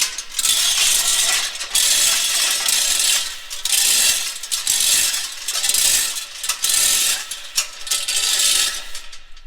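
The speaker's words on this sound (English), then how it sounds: "Now I'm going to screw my hose into here for going into the tank" A hose fitting is screwed into a unit that feeds a tank, giving repeated close, loud bursts of gritty ratcheting and scraping thread noise with brief pauses between turns.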